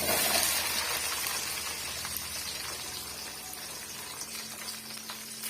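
Finely chopped small onions, about thirty shallots, hiss and crackle in hot oil for a Chettinad brinjal curry, a dense, even sizzle that runs throughout and eases slightly toward the end, with no voices.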